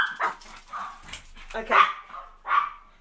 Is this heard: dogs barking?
yes